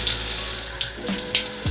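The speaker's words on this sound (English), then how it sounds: "hose her down pretty aggressively with light warm water" A hose sprays light warm water over an indoor houseplant to wash off mites, giving a steady, close, hissing rush of water with a few splashy spikes.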